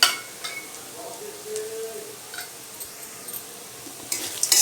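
A spoon stirs turmeric and spices into a frying potato mixture in a pan, soft scraping and light clinks against the metal over a faint sizzle, with a louder clatter near the end.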